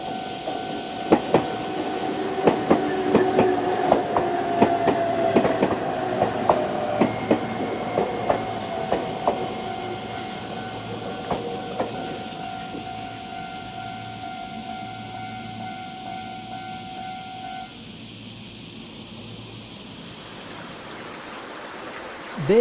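A train passes a railway crossing, picked up by a shotgun mic. Loud repeated crossing-bell dings ring over the rumble and rhythmic wheel clatter of the passing cars. The bells stop near the end and the train sound fades.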